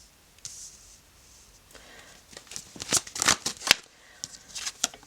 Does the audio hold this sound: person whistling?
no